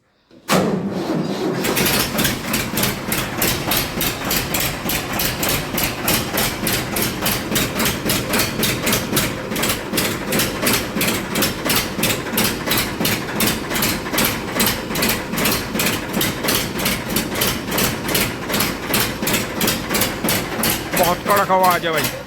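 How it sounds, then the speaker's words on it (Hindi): A tractor engine starts up and settles into a loud, steady, rapidly knocking idle that runs close and continuous throughout, with a brief voice near the start. "कभी भी आपको डाउट हो तो आप क्लच को दबाकर स्टार्ट कर सकते हैं ट्रैक्टर को।"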